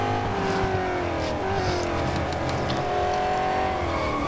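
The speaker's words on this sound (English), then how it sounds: "that's some serious skidding there" Jaguar XE SV Project 8 in Real Racing 3, a steady droning engine under a long high tire squeal from skidding, loud and continuous throughout.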